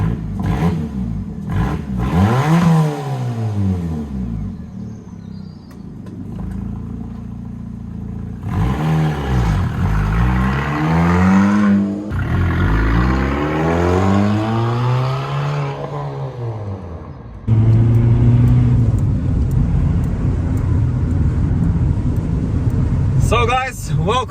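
An Abarth 595C Competizione with its roof off drives past in a tunnel, its engine revving hard through repeated rising and falling sweeps and gear changes, loud and close, with people talking under the engine noise at times.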